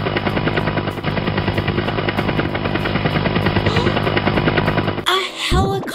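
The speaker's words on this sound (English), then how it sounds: "A helicopter!" A loud helicopter roars steadily, its rotor blades thumping in a fast, continuous chop for several seconds before the noise briefly breaks up.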